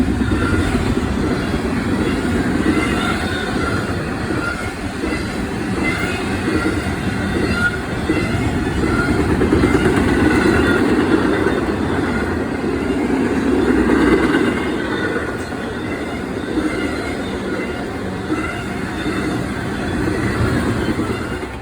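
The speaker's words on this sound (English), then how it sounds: "Next up would be an unknown westbound NS Intermodal train." A westbound Norfolk Southern intermodal freight train rolls steadily past at evening, a loud continuous rumble of wheels and cars with occasional squeal and rhythmic clacking over the rails throughout.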